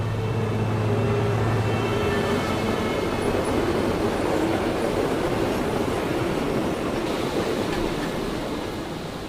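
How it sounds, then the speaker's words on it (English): A city tour tram in Christchurch rumbles along steadily with a continuous low roar and faint rattling, fading slightly toward the end. "City Tour Tram"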